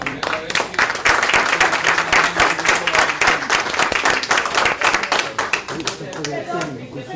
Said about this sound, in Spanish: Se ganaron un aplauso